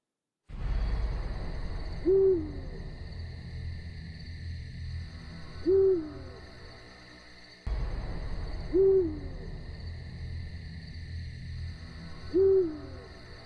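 An owl hoots, four clear calls spaced a few seconds apart over a steady hum of background noise.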